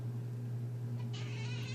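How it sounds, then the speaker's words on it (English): A pet cat meows indoors, a faint brief call rising over a steady low electrical hum, with no talking. "Oh, Cleo, what are you meowing about?"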